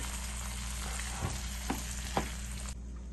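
Breadfruit curry sizzles steadily in a pan while a spoon scrapes through it three times after a mustard-seed tempering is added, and the hiss drops away near the end.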